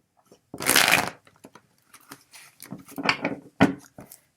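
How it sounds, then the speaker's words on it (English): A deck of tarot cards being shuffled by hand, with a loud riffling burst early on, then several softer, uneven card rubs and taps, and one sharp slap as a card drops out, all close and without speech. "So what I'm doing is I'm shuffling till one card falls out."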